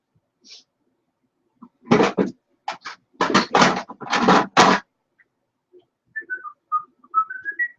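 Someone whistles a short melody in clear, separate phrases, with quiet pauses and a few soft, higher whistled notes near the end.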